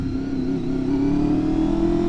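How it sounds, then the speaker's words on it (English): A Honda VFR motorcycle engine roars steadily at close range and its sound echoes off surrounding buildings, holding a low, even drone with a slight rise in pitch. "This bike has such a sound. That's one of the main reasons why I love a VFR. That engine is just incredible."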